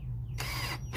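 A power drill boring into a Subaru Ascent hitch cover, a short close burst of high motor whine that starts, runs briefly and cuts off.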